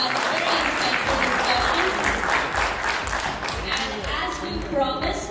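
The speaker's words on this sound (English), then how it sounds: "Can we have one more big round of applause for that" Steady, full applause rises from the audience at a corporate investor and analyst meet after a panel discussion, dense clapping holding evenly throughout with no break, some voices faintly mixed in.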